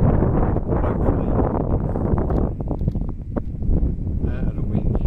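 Strong gale wind buffeting the microphone beside a Lincolnshire drain on a pike fishing outing, a loud continuous roar and rumble with gusts that briefly ease before surging again, with someone speaking over it.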